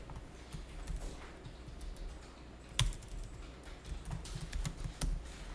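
Computer keyboard typing during an accounting software lesson, a steady run of quiet, close key taps with a few louder strokes, with no talk over it.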